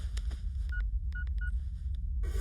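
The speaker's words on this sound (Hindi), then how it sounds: "अभी फोन लगाता हूँ।" A telephone number is dialed as a quick series of short keypad tones, spaced unevenly and heard over a low background rumble.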